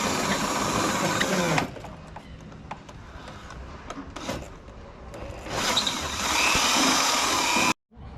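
Power drill boring a 10.5mm hole through the aluminum hull of a boat, a close, loud whining grind that eases off midway, rises again, then cuts out abruptly near the end.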